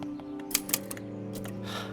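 Clicks and clacks from a typewriter being repaired, a few sharp mechanical strikes over a steady hum and background noise, close by with no speech.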